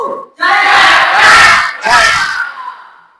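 Vocational school students at SMK NU shout a school chant in unison, two loud group bursts with a brief gap between them, close and filling the room.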